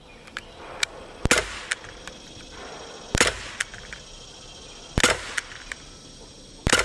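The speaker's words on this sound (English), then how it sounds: "Let's see if the Umarex steel BBs will shoot better than that." Shots from a Daisy Powerline 5501 CO2 BB pistol firing Umarex steel BBs: sharp, loud cracks spaced a second or two apart, some followed by faint metallic target pings, with no talking.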